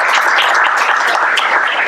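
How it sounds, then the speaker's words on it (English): Symposium audience clapping for the speakers, a dense, even patter of many hands, close and loud, sustained through the whole brief stretch. "Can we get a round of applause for all of our excellent speakers?"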